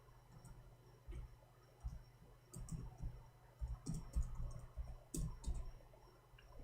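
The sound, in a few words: typing on a computer keyboard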